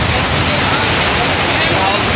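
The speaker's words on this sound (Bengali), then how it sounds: "টিনের আওয়াজে বৃষ্টির আওয়াজ টিনে অনেক সুন্দর লাগতেছে।" Heavy evening rain drums on a tin roof in Cumilla with a dense, constant hiss that stays loud and close from start to finish.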